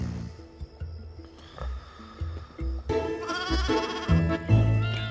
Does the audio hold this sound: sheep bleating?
yes